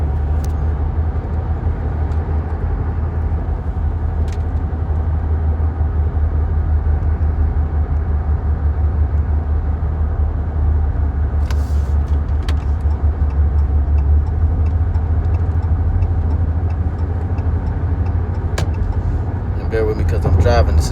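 Car driving on the road, a steady low road and engine rumble heard from inside the cabin, continuous and moderately loud, with someone talking over it throughout and a few faint clicks near the end.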